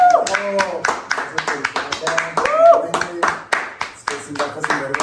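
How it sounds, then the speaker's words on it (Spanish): A few people in a podcast studio clap in scattered sharp bursts as a welcome, with voices speaking and exclaiming over the clapping throughout. "queremos darle un aplauso de bienvenida."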